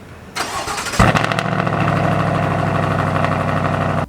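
A Chevrolet Silverado ZR2 truck engine cranks and catches loudly, the exhaust barking briefly before settling into a steady, rumbling idle close by, with no talking.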